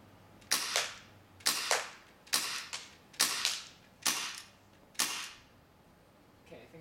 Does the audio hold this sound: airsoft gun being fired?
yes